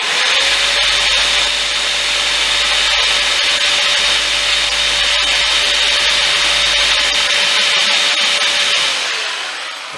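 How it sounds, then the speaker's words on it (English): A saw blade, used gently as a rasp, scrapes across the wood of a guitar neck. The rough, continuous scraping is loud and close and lasts several seconds over a steady background hum before tapering off. "can basically use it as a rasp, but I have to take really small bits off and be very gentle"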